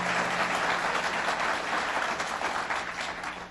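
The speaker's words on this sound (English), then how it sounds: "Let's give him a round of applause." A crowd claps steadily for Mayor Byron Brown at a Western New York event where Governor Cuomo is presenting the state budget, the dense applause staying loud and even before easing slightly at the end.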